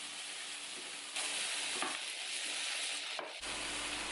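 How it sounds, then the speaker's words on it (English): Zucchini and white onion sauté in a pan for vegan Korean jjajangmyeon, giving a steady, close sizzle with a few stirring scrapes and brief shifts in intensity. "Then add in a zucchini and also the white onion. Continue to saute for another 2 minutes."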